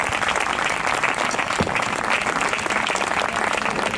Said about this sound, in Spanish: aplauso a Plavinseiro